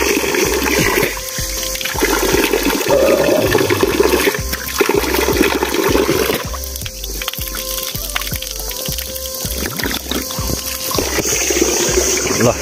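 Water pours steadily from an outdoor village tap spout, a continuous splashing rush with some low knocking and faint background noise throughout.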